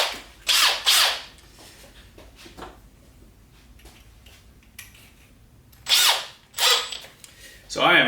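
Power drill with a 1/4-inch bit working on a Tanks Incorporated EFI polyethylene fuel tank for a Ford, several short loud whirring bursts separated by quieter handling noises and pauses.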